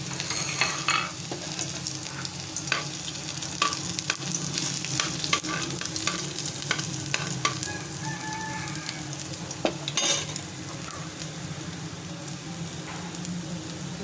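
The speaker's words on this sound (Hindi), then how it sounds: "अब इसमें लहसुन डाल देंगे, लहसुन का तड़का हल्का सा ब्राउन करेंगे लहसुन को।" Garlic fries in hot ghee for a tadka, a steady close sizzle broken by scraping stir strokes and occasional pops, with no talk.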